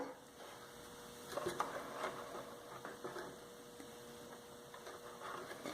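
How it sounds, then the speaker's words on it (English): A sewing machine stitches the side seam of a drawstring bag in a faint, steady mechanical whir with quick rhythmic ticking and a few louder clicks, running alone without talk. "sew to where the first blue line is"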